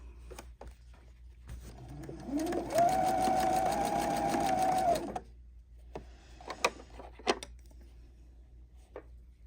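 A sewing machine set to a 3.0 stitch length stitches a flannel bib in one steady, close whirring run of about two and a half seconds. Quiet clicks and handling noises come before and after it.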